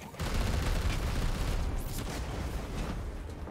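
Gunfire and blasts from the Warhammer 40,000: Chaos Gate video game form a dense, continuous rumble of shots and explosions throughout, steady and moderately loud.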